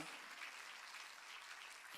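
Continuous congregational clapping at a Korean church service, a soft, dense wash of many hands held at a steady level and heard quietly, as if from a distance.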